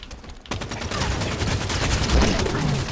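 Rapid automatic gunfire in the Halo 5 Beta video game, a close, loud burst of continuous shots starting after a short pause and running to the end.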